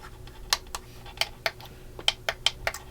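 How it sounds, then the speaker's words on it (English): A series of sharp, light plastic clicks at uneven intervals from the levers of a 1:6 scale Shelby Mustang GT500 model car, close up, with no talking. "when you move your levers, you should hear some clicking"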